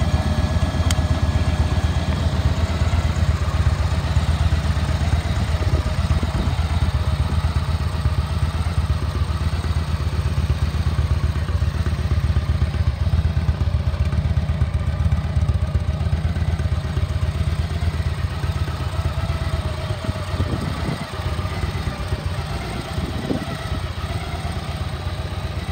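A 2016 Victory Magnum motorcycle idles steadily up close, its V-twin engine giving a low, rumbling, slightly clattery throb that holds even throughout with small fluctuations.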